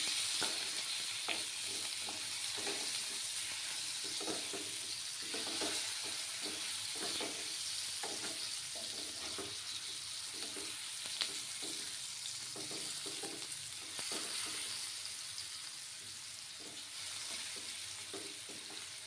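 Potatoes fry in a pan with a steady, close sizzle and crackle, dotted with repeated soft scrapes from stirring that run throughout without a pause.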